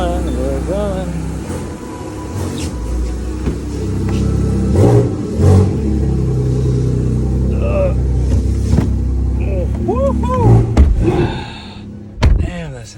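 A Porsche GT4 RS engine revs and accelerates while driving, its rumble rising and falling through several pulls from inside the car, with people talking over the engine noise and a thunk near the end.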